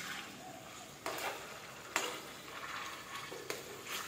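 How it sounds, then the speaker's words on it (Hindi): Softly cooked tomatoes are mashed with a spoon in a karahi, producing quiet squelching and scraping strokes that repeat about once a second over a faint sizzle. "अभी हम क्या करेंगे कि टमाटो को अच्छे से मैश कर लेंगे"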